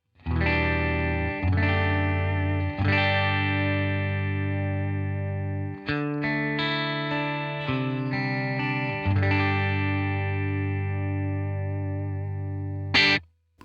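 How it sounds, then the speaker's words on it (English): Electric guitar played through a Headrush MX5 on a clean Fender-style tone, a series of bright, ringing chords struck one after another with a short passage of quicker notes in the middle, close and alone. "So here's a Fender style tone."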